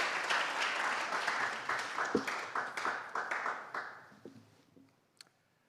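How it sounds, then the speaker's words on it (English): An audience applauds motivational speaker Emmanuel Taban. The dense clapping is strong at first, then thins into scattered individual claps and fades out, ending with a single late clap. "Give him a round of applause."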